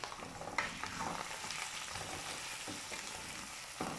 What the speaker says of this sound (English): mix this together. You want to mix very well.